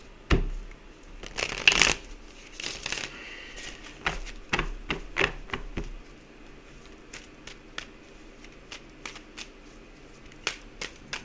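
Oracle cards being shuffled by hand, bursts of crisp riffling and flicking near the start, then a longer stretch of scattered soft card taps and slides, close and clear with no talking.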